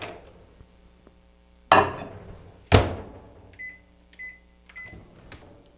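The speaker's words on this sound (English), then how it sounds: "I'm going to go back in my microwave for 30 more seconds." A few short clunks and thuds, a microwave door-like bang, then three brief electronic beeps in a quiet room, while heating mozzarella curds.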